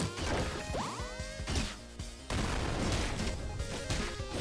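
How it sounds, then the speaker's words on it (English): An explosion goes off in the background of the Vengeance Hunters video game, a loud crashing burst amid dense, continuous game sound effects and music, with further impacts following. "So we had a little explosion in the background."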